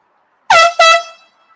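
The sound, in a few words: passing vehicle honking its horn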